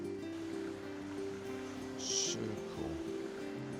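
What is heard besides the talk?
mountain stream water piped into fish farm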